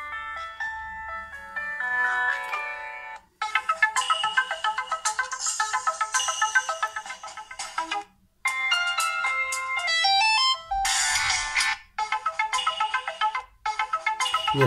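A rugged Santin Armor phone's ringtone plays a bright electronic melody in repeated phrases, loud and close, with brief gaps between bursts and no one talking.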